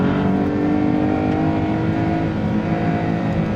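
A Maserati MC20 revs hard while driving on the Inje circuit, a loud, continuous engine roar from inside the cabin that holds steady throughout with no talk over it.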